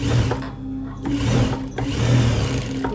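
Sewing machine stitching garment pieces in close, rapid bursts, its mechanical whir starting and stopping in short runs with brief pauses between.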